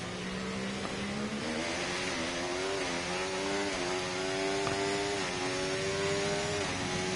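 In a racing video game, a Mercedes race car's engine drones at a steady high pitch, rising and shifting slightly as the car accelerates down a straight, heard alone without talk.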